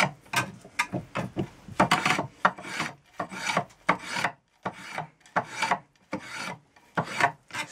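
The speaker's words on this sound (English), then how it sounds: "So all I'm doing here is just taking off a bit more, and the curved base of the spokeshave actually helps get that round shape" A spokeshave shaving a wooden chair stretcher spindle in repeated rasping strokes, each a short scraping pass followed by a pause, close and crisp with no talking.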